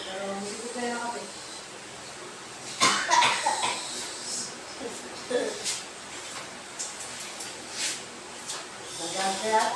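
A person coughs several times indoors at home, sharp bursts scattered between stretches of quieter talk and background noise, moderately loud and close.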